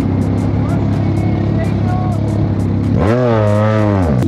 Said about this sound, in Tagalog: Pwede marinig yung makina, sir. Oh, ang taba ng tunog.